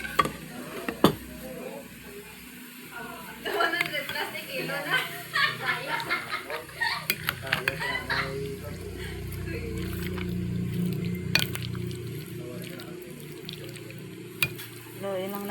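A spoon stirs potato salad thick with mayonnaise, giving soft, wet scraping and squelching close up with a few sharp clicks against the bowl, while a voice talks over parts of it.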